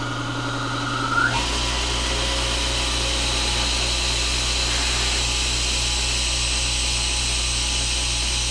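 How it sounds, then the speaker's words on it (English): A Fortress Ultra Quiet 26-gallon air compressor is switched on and runs with a steady, even motor hum and whir that holds at constant loudness after a short quieter lead-in. "let's hear exactly how quiet this ultra quiet air compressor is"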